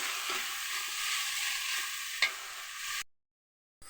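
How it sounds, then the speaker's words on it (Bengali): Vegetables fry with onion and spices in a pan, giving a loud, steady sizzle with stirring, one sharp scrape near the end, then an abrupt cut to silence. "মশলার সাথে এটা ভেজে নিচ্ছি"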